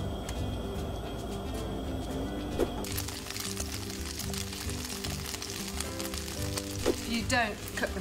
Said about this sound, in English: you put some oil in a pan and you fry them until they are brown and crispy and delicious